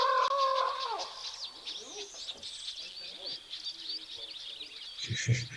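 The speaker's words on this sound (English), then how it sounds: "That's a sound I always enjoy hearing, that very high-pitched, three-toned whistle of the whistling duck." Whistling ducks give high, thin multi-note whistles at a waterhole, mixed with other birdsong and a low rustle near the end, fairly close and clear with no talk.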